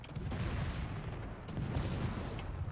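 Ship guns fire HE shells from a Friesland destroyer in World of Warships, with a steady rumble under several sharp booming reports spread across the moment at moderate loudness.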